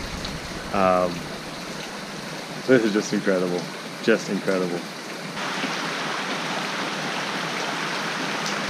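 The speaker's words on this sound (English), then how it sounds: "It's raining, it's pouring" Steady rain pours at an outdoor luxury resort, a broad even hiss that grows denser in the second half, while someone speaks excitedly over it early on.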